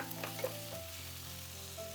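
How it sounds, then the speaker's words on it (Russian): Onion and garlic fry in vegetable oil in a skillet, giving a steady, close sizzle with soft crackles that runs the whole time, with no voices over it. "Отправляю обжариваться лук и чеснок до легкого золотистого цвета."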